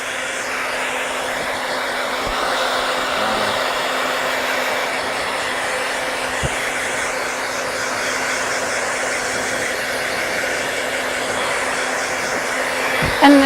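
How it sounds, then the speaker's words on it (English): A hair dryer blows steadily during a salon blow-dry, a loud, continuous whooshing hum lasting the whole stretch with no talk over it. "during your blow dry"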